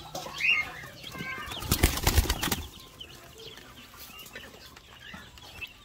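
Newly hatched native chicks and chickens at feeding time, with wings flapping in a brief loud burst mid-clip and soft clucks and peeps scattered around it.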